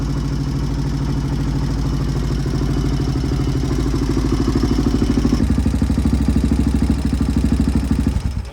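A 1986 HRC XR628R motorcycle with dual carburettors idles upright, a steady low thumping single-cylinder beat with mechanical clatter, close and loud, holding an even rhythm that firms up slightly partway through with no talk.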